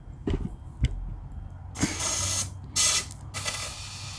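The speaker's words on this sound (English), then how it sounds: "spray some quick start in there, and we'll see if that gets it to start." Quick-start starting fluid is sprayed into the carburetor air intake through the air filter of a Snapper RE110 mower. Four loud, close hissing bursts, each about half a second long, follow a few faint knocks at the start.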